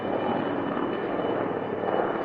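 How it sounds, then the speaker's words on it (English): Helicopter flying near Tumbaco, Ecuador, a steady loud broadband engine and rotor roar that holds evenly throughout with no other sounds. "you hear that helicopter coming?"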